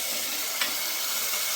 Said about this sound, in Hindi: यहाँ पर ये देखिए मैंने चने उबाल लिए हैं और यहाँ मेरा मसाला भून रहा है।